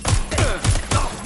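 Gunfire in Watch Dogs Legion: four or five heavy, evenly spaced shots thumping in quick succession over a short burst, close and loud, with game sounds between them.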